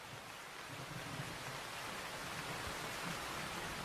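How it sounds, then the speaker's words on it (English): Heavy jungle rain pours down in a steady, dense roar with no breaks, loud and close, with nothing else heard over it. "As the rain falls even harder, Bill gives up his pursuit."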